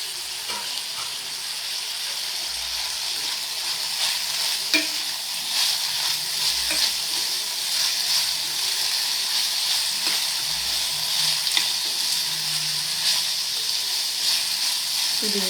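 Capsicum frying with masala in a pan gives a steady, dense sizzle and hiss, broken now and then by soft scrapes and taps of a stirring spoon, with no voices.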